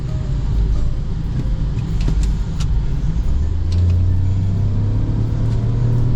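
A 2023 Peugeot 2008 engine pulling under acceleration from inside the cabin, a loud, steady low rumble whose pitch climbs smoothly as the car gains speed, with road noise and no talking.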